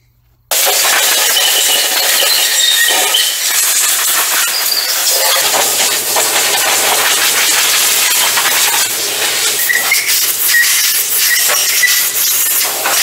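Compressed air blasting off the cylinders of a 327 engine block, a loud continuous hiss running steadily almost the whole time after a brief silent start, no speech.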